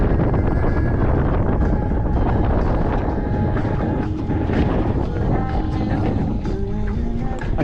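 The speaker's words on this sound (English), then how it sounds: "that wind is pulling so fucking hard" Strong wind buffeting the microphone out on the water aboard a small sailboat, a dense steady roar with water and hull noise throughout, loud and continuous.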